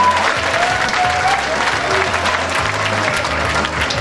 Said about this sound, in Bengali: জোরে একটা করতালি ম্যাডামের জন্য